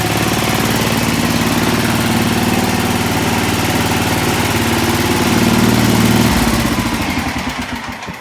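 A Sears ST/16 garden tractor engine runs with a loud, steady, throbbing mid-pitched drone, shifting briefly to a lower rumble near the end before fading slightly.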